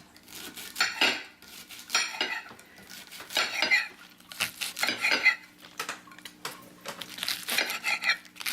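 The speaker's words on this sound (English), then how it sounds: "we want to chop them all the way through the green" A knife chops green onions on a board in a steady run of crisp, quick chops, with short pauses between bursts, close up and fairly clear.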